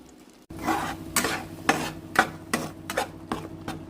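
Ground curry paste for paneer butter masala hits melted butter with a sudden sizzle, followed by several rhythmic scraping stirs of a spoon against the pan, close and clear with no talking.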